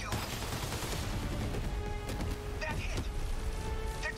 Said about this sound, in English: And how about you fire some missiles?